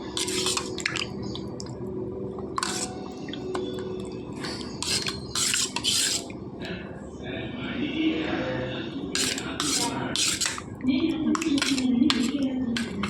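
A spoon scrapes and clinks against a metal pot as chili powder is stirred into buttermilk curry, with intermittent clatters and wet stirring sounds under occasional speech.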